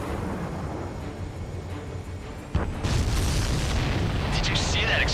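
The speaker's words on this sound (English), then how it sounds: "Did you see that explosion?" Explosion in the flight combat game Ace Combat 7: Skies Unknown, a sudden heavy boom breaking over a steady roar of jet engines, followed by a rumbling, crackling tail with a voice talking over it.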